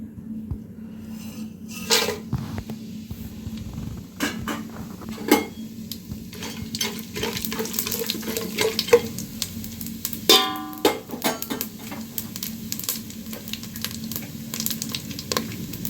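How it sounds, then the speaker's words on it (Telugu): Cinnamon, cloves, cardamom and shahjeera fry in hot oil for bagara rice with a steady sizzle and popping. Scattered clicks and clatters of utensils against the pan run through it, close and fairly loud. "అందుకే ఆయిల్ వేస్తున్నాను చూడండి చెక్క లవంగ విలాచీలు సాజీరా"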